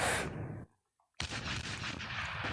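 Gunfire strikes a tank in the video game Tank Hero, a burst of loud, dense shots that cuts off into a brief silence and then resumes as a sustained, rapid barrage.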